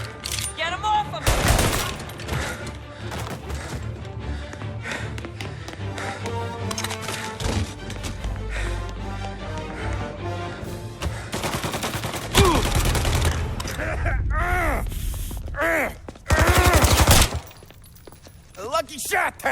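A shootout in the video game Mafia Definitive Edition, with dense bursts of gunfire, rapid machine-gun volleys and shattering impacts. Characters shout over the loud, chaotic firefight.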